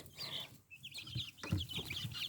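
High chirping peeps from young chicks mingle with low clucks and guinea fowl calls, close by and fairly quiet.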